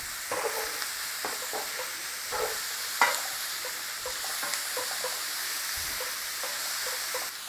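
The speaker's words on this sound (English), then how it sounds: "I want the onions to sweat down in here." Chopped onions sweat and sizzle in a frying pan for moussaka, giving a steady soft crackle with a few sharper pops and spoon stirs near the listener, and nobody talks.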